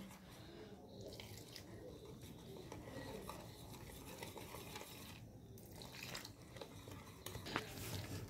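Gram flour batter, mixed with rice flour and spices, is stirred as water is added, making a soft, continuous wet squelching and scraping close by, with faint clinks from a bowl.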